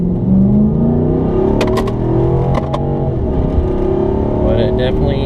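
A Nissan Titan fitted with a Spectre cold air intake runs loud and close, its engine revving with a rising and falling intake whoosh and exhaust roar throughout.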